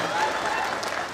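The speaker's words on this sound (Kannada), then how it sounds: "ಅಕ್ಕರ ಮಾತ್ರ ಚಪ್ಪಾಳೆ ತಟ್ರಮ್ಮ" Women in the audience at a live Kannada comedy show clap together, a dense, even patter of hands that holds steady through the moment, with light crowd murmur and a voice underneath.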